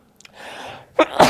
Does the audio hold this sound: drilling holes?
no